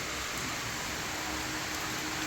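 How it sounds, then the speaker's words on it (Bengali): Steady, fairly faint rain falling outdoors at a house, an even hiss of drops with no talk over it. "আর আজকের ওয়েদারটা একটু খারাপ একবার করে বৃষ্টি হচ্ছে একবার করে রোদ হচ্ছে এখন আবার বৃষ্টি শুরু হলো"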